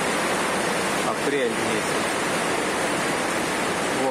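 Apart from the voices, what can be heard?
water leaking through the roof pouring into an apartment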